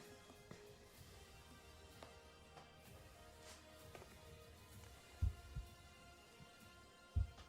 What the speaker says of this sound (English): you wake up to the sound of your own heartbeat